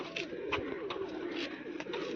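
Soft cooing from a female pigeon repeats in short low murmurs over a steady background hum, fairly close and continuous.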